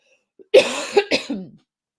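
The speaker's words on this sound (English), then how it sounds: "Hopefully next week I won't be coughing." A short fit of close coughing, two or three harsh bursts in quick succession, with no speech around them.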